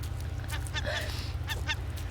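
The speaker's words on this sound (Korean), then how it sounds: "가만히 있으면 갈매기가 감자를 다 뺏어 먹는구나" Seagulls squawk in the raft-survival video game Raft, a series of short honking, goose-like calls repeating over a steady low hum of background game audio, with no one talking.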